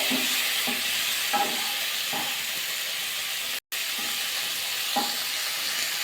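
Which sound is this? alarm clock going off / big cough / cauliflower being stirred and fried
cauliflower being stirred and fried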